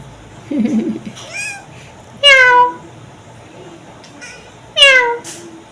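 Kittens meow several times in clear, close, rising-and-falling cries, with two especially loud calls near the middle and end and a brief low rustle early on.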